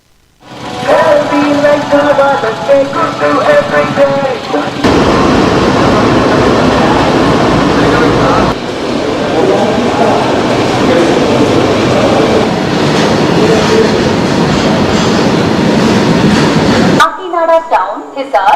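The Kakinada to Hisar express train rolls past at close range, a loud continuous rumble and rattle of wheels and coaches that shifts in texture partway through.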